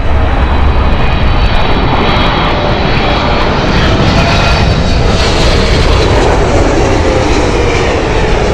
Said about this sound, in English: Next up, Air Canada 787. Finishing on a wide body high here folks